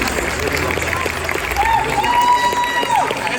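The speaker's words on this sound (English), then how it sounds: "Give them a round of applause" Audience applause at the ASTA Entrepreneur of the Year award ceremony, a dense sustained wash of clapping and crowd noise that stays loud throughout, with a voice over it.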